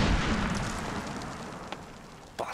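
A 60mm mortar round exploding in the game Medal of Honor Warfighter, a muffled rumbling blast that fades away, with a couple of faint distant pops after it.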